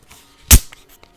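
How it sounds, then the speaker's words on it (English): A single quick, sharp hiss-pop of an orange cream Coke Zero can tab cracking open, close and crisp against near silence. "That is the sound of the orange cream Coke Zero being opened."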